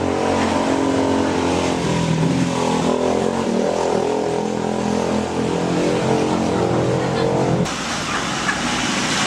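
A motorbike engine roars and revs loudly nearby, its pitch rising and falling, then cuts off abruptly near the end.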